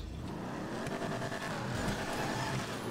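Car engine revving hard during a wheelie in Grand Theft Auto V, a continuous loud roar with tire noise, steady and close with no talk.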